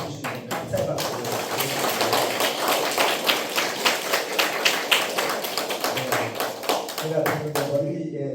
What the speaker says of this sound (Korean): 우리 세 분 발표해 주시면 감사의 박수.